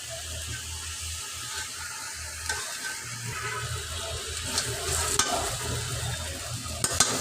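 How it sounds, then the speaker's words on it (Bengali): Beef liver bhuna frying with turmeric, chili, coriander and garlic: a soft continuous sizzle with stirring scrapes and a few sharp clinks of the spoon against the pan. "গরু কলিজা ভুনা, কলিজাটা ভুনা করবো"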